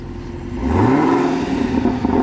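A 2022 Chevrolet Camaro ZL1 1LE with a manual gearbox pulls away from a stop, its engine note climbing steadily from a low idle into a rising, close, loud rev with no talk.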